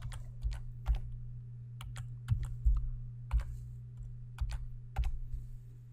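Data points are keyed into a computer keyboard, producing distinct, irregular clicky taps in small bursts over a low steady hum.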